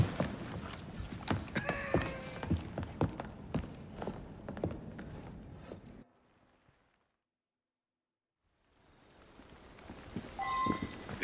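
Hooves of a horse-drawn carriage clop in Victorian London in Assassin's Creed Syndicate, moderately close with irregular steps and a few scattered clatters, then a brief silence before ambient sound returns with a high chime.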